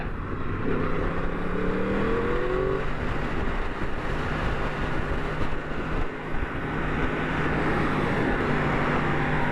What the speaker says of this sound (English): there's nothing out there that beats the sound of a cross-plane R1